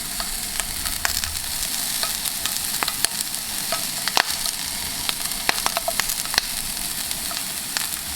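Chickpeas and spices toast in a hot pan with a steady, bright sizzle, broken by scattered sharp pops and crackles and occasional stirring scrapes, close and continuous with no voices.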